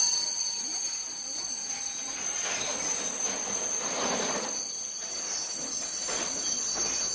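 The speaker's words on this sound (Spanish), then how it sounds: "El tren de pasajeros que llega por la mañana procede de Estocolmo." A passenger train from Stockholm rolls in on the Kiruna iron-ore line with a steady rumble. High, sustained wheel squeals ring over it throughout, at a moderate distance.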